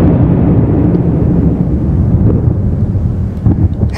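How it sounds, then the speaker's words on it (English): Steady loud rumbling thunderstorm ambience in a horror video game, a continuous low roar of rain and wind with faint crackles, heard alone without talk. "Hell of a thunderstorm today, folks."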